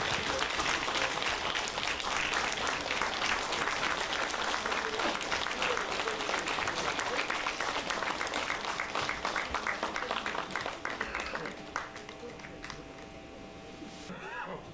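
An assembly at a Buddhist dharma gathering applauds warmly as a senior monk enters, a thick, sustained clapping that thins out and fades toward the end.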